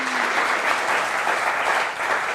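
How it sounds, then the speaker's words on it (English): An audience at a conference talk on accessibility applauds steadily and loudly, a dense continuous clapping that fills the whole moment with no speech over it. "Give a hand to Leonie."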